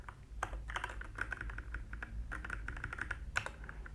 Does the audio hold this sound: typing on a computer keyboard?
yes